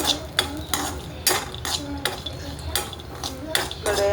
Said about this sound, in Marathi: आता त्याच कढईमध्ये आपण खोबरं टाकलेलं आहे भाजण्यासाठी